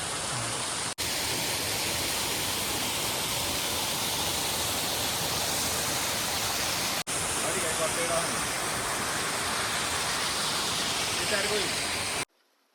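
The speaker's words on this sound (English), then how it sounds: "for the city people like me and others, this is a waterfall" Small hidden waterfall in the forest near Jibhi, Himachal, roaring as a steady broadband rush of falling water, close and loud throughout with two brief dropouts, alone without talk.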